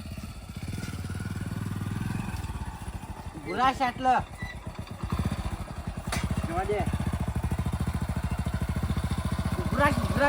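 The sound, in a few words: motorcycle engine running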